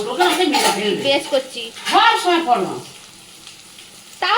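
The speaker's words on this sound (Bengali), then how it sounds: "এবার এর সঙ্গে আলুটাকে ভালো করে কষিয়ে নিলাম" Boiled potatoes sizzle and fry in a pan with a fish roe curry being cooked down, steady frying noise under a voice talking over much of it, with a brief louder clatter near the end.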